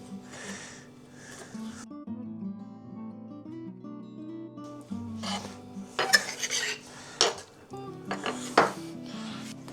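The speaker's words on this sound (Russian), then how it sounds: "Режем на мелкие кусочки." Knife chopping half-frozen chicken into small pieces on a board in a home kitchen, a run of sharp, irregular knocks and scrapes heard over steady background music.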